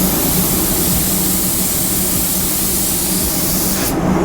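A spray gun sprays sealer onto car parts with a loud continuous hiss that holds steady and cuts off abruptly at the end.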